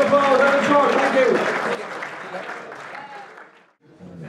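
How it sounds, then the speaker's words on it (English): Audience applause fills a Croke Park event, loud and dense at first with a voice speaking over it, then thinning and fading out before a brief lull. "Alan Short, give me a huge round of applause."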